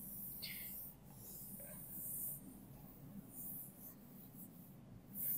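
Chalk or marker strokes of a teacher writing on a classroom board during a maths lesson, a quiet continuous scratchy rustle with a few brief squeaks, faint and close, no talk over it.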